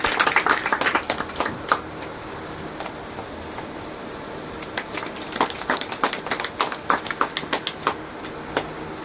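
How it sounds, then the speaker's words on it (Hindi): A welcoming round of clapping from an audience at a Teacher's Day event at an institute, sharp hand claps swelling briefly at the start and again toward the end over a roomy background hum. "स्वागत तालियों से।"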